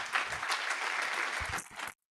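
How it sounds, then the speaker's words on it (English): An audience applauds panel presenters at a conference session on nutrients and sediment, with soft, steady clapping for about two seconds that cuts off abruptly. "should ask you to give them another round of applause"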